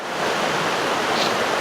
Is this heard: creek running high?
yes